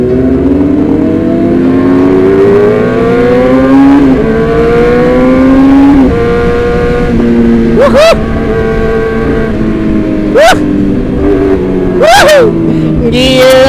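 Modified Yamaha R6 motorcycle revving hard, loud close engine with rising pitch sweeps and several sharp throttle blips near the end.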